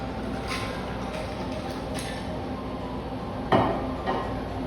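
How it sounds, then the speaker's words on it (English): Ice cubes clink into a glass for a ginger mojito with muddled mint, a few sharp knocks spread over several seconds, the loudest near the end, over a steady quiet background hiss. "And then fill to the top with ice. Add 2 ounces of the rum."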